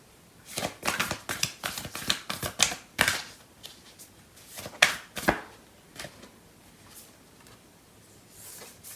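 Tarot cards are shuffled and drawn during a love reading, making a quick series of crisp, close riffling snaps and slaps that thin out into occasional soft taps.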